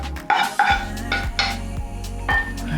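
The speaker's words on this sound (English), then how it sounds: "I'm just going to serve up in a bowl." A quick vegan stir fry is served into a bowl, with several close clinks and scrapes of a utensil against the dish in a short sequence.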